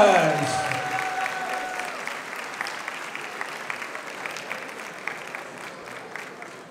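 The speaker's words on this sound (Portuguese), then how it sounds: "Uma salva de palmas!" Audience at a cosplay group awards ceremony at an anime convention applauding, a burst of clapping that starts with a voice and cheers, then settles into steady scattered claps that slowly thin out.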